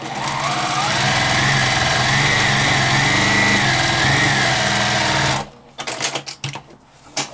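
A sewing machine stitches a zipper bag in a loud, close, steady mechanical whir for about five seconds, then stops, leaving a few scattered clicks and handling sounds.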